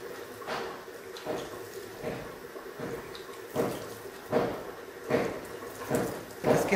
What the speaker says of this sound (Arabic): باش نرش عليه شويه ماء، كاس ماء